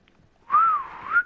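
A single clear whistle, rising then falling with a brief lift at the end, sounds in the video game Call of Duty Black Ops Cold War, loud and alone against a quiet background.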